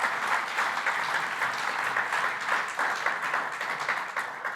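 An audience at a green hydrogen conference panel gives sustained, even applause, many hands clapping in a dense, moderately loud wash with no break for the whole stretch.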